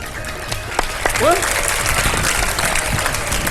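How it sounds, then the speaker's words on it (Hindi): Loud, sustained applause from a studio audience at a televised Ramadan iftar show, with a brief voice rising over the clapping partway through. "बहुत सारी तालियां"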